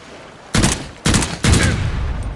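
Uzi submachine gun firing in the VR horror shooter Immortal Legacy, three loud close bursts of rapid automatic shots with brief gaps, over a steady game-ambience hiss.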